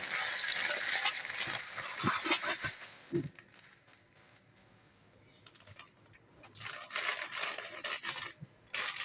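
Vermicelli being pounded and crushed inside its plastic packet, with crackly crunching bursts, a quieter stretch in the middle, then more rustling crushing near the end.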